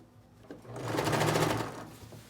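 A sewing machine stitches a children's jacket in one fast continuous run, its motor rising to a steady whirr and then tapering off, close and clear with no talk.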